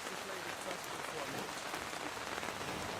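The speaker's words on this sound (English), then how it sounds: "wait, that was the rain?" Steady rain hits a window in a dense, even patter that fills the whole stretch without a break.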